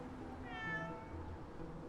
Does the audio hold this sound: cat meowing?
yes